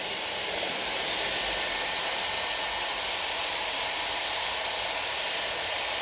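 Dyson Airwrap hair styler blowing air in a steady, continuous high-pitched whoosh with a faint whine, even and unbroken throughout.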